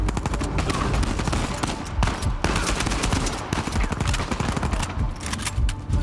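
Rapid gunfire in the video game Uncharted 4, dense bursts of shots and automatic fire crackling continuously and loudly throughout, with no pauses.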